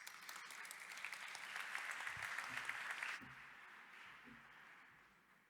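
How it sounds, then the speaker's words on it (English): Conference audience applause as a speaker takes the stage, a dense round of clapping that swells, then drops abruptly and trails off faintly with a few low thumps. "A warm round of applause, please."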